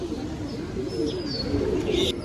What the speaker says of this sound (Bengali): তো ফাইনালি এই পায়রাটা নেমে গেছে